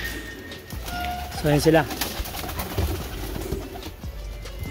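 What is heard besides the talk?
pigeons cooing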